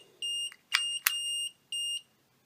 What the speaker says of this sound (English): And it annoyingly beeps.